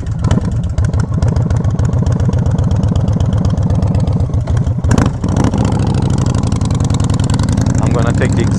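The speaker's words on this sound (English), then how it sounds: "Let's get the bike fired up." A motorcycle engine fires up and settles into a loud, steady, rapid idle, close by, with a brief rev as it catches.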